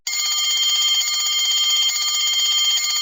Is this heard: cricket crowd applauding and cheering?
no